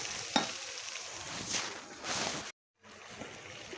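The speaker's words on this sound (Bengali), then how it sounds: "এখন হলুদ মরিচ লবণ এই মশলাগুলো আমি ভালো করে কষাতে থাকবো" Ginger, onion, garlic, turmeric, chilli and salt being fried and stirred in oil for a prawn dish: a steady soft sizzle with occasional scraping strokes, broken by a brief silent cut, fairly quiet and close.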